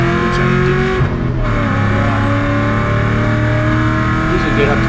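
A car accelerating hard onto the long straightaway at NCM Motorsport Park, its engine loud and close and climbing steadily through the revs, with a brief dip at a gear change.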